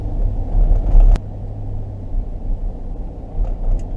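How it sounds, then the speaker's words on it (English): A 2004 Chevy Tahoe drives across town, its steady low engine and road rumble carrying throughout, with a brief louder bump early on and no talking. "we're gonna drive across town here, move on to our next test"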